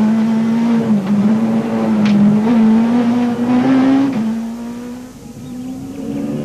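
A Peugeot 207 rally car on a stage of the Rally of South Africa, its engine droning loud and close with a sustained tone that rises and shifts as it revs, with a brief squeal before the sound eases and recedes.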